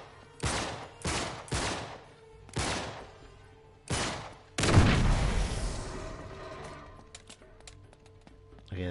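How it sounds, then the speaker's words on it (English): Explosions and bursts of gunfire erupt in the Uncharted 3: Drake's Deception video game, with five sharp blasts in a rough rhythm followed by a bigger, rumbling boom that fades into scattered clatter. "Explosions."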